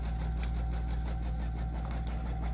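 A sewing machine quilts fabric, running continuously with a fast, even mechanical hum and rapid needle rhythm, close and steady throughout.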